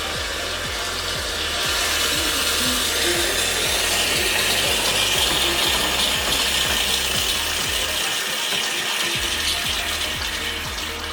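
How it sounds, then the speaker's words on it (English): Homemade ice cream mixture whisked by hand in a bowl, a steady fast scraping and rattling rhythm of many quick strokes that continues close and fairly loud for the whole stretch, with no talking. "So I'm whisking now."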